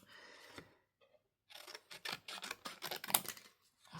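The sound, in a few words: cutting tags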